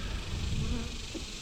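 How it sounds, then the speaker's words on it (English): Honeybees buzzing inside a colony's hive box on a hot day during feeder removal, a steady dense drone close by with faint low rumbles and handling noise underneath. "there's a lot of bees in there on that side."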